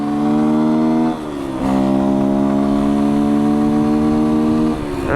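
A Beta 125 RR four-stroke enduro motorcycle engine on the road holds a steady, loud mid-rev drone, dipping briefly twice as it shifts or eases off, then climbing again.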